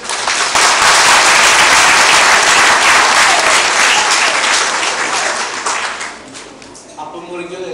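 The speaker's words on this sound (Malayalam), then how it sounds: "ഒന്ന് കൈയടിച്ചത്." Audience applause at a Pesaha appam-breaking gathering in a family setting, a loud dense wash of clapping that swells for about six seconds, then fades as a voice begins speaking.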